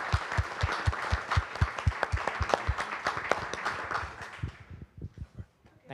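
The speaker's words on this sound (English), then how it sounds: "a big round of applause for the great labs and the panel" An audience applauds the labs and panel at the close of a live session, with dense, steady clapping that thins out and fades toward the end, punctuated by a few louder individual claps.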